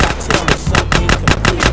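Grand Theft Auto San Andreas gunfire cracks in a rapid, evenly spaced burst of about ten loud, close shots.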